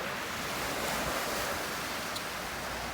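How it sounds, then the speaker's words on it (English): Ocean waves wash steadily onto a sunny beach in Antigua, a continuous broadband surf hiss with no distinct breaks, close and fairly soft, with light wind and no talking. "Listen to those waves."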